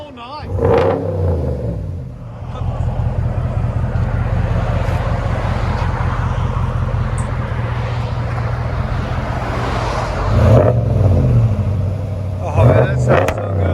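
Ram 1500 Bighorn Edition with a 5.7L Hemi V8 and B2 Fabrications exhaust revving, a loud sustained deep exhaust rumble with sharper blips near the end, while someone talks over it.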